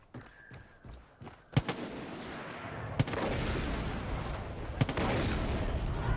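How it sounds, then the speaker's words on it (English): Booming explosions and rattling gunfire in Far Cry 5 co-op gameplay: a few sharp blasts and shots, then a sustained loud roar of fire and rumble filling the rest. "Yay, explosions."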